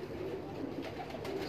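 Soft pigeon cooing from a young female-line bird on a rooftop loft, low murmuring coos repeating faintly over steady background hiss.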